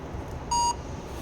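A single clear electronic beep from a barcode scanner, short and steady tone lasting a fraction of a second, standing out over a low background room hum in a shop or pharmacy counter setting.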